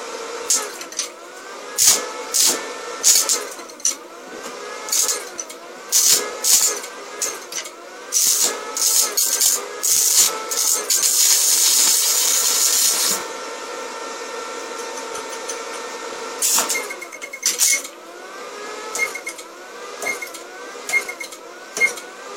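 A stick electrode arc welder set to about 40–45 amps strikes and holds an arc on clean metal, giving steady loud crackling hiss broken by sputtering stops and restarts.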